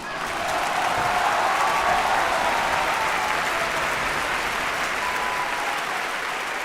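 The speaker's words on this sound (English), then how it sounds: "we're applauding you because I mean that's huge." Studio audience applause during a live show, a thick, even wash of many hands that swells in quickly and holds steady for several seconds, slightly muffled, with faint crowd murmur underneath.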